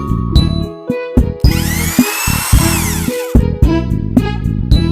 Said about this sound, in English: Drill machine, drill machine.